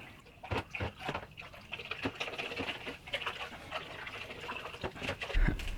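Water being stirred in a hydroponic nutrient tub, a steady run of soft sloshing and pattering splashes close by, with no one speaking.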